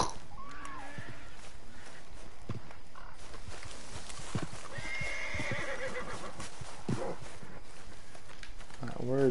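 Horse hooves clip-clopping and a clear whinny from a horse in the Western video game Red Dead Redemption 2, the neigh rising near the start amid steady hoof steps, with game ambience and someone talking over it.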